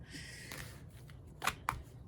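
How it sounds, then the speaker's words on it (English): Quick riffling and soft slapping of tarot cards being shuffled close by, a few brisk bursts in a quiet room. "I'm gonna shuffle on camera"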